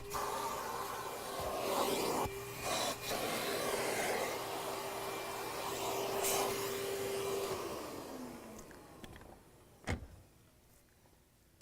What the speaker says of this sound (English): vacuuming all of the surfaces, all of the upholstered surfaces of the vehicle